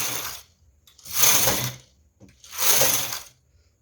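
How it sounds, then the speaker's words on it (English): A knitting machine carriage is pushed across the needle bed to knit rows, giving two long rasping, clattering sweeps separated by pauses, close and clear with no talk. "I'm going to knit 3 rows right now."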